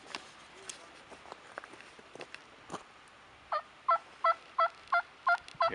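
A roosting wild turkey in southwest Virginia gobbles in a run of about seven loud, even, rapid calls near the end, after quieter scattered sounds and faint outdoor ambience.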